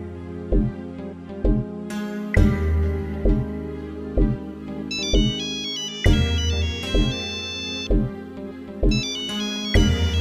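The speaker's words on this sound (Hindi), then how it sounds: "साहब फोन आ रहा है।" A loud electronic phone ringtone plays a bright, repeating melody over a steady thumping beat, continuing without pause and with no talking.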